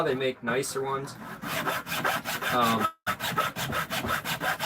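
A handsaw cutting through wood in steady back-and-forth strokes, close and rasping, with one brief pause, while a person talks over it.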